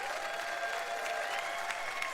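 Comedy festival audience in Winnipeg applauding a stand-up comic, a steady dense wash of clapping hands held at an even level for the whole stretch, with no talk over it.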